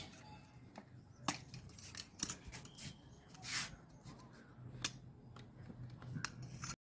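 Scissors snipping open the packaging of a Nerf Alpha Strike toy blaster, several short crisp cuts and rustles close by, with no talking.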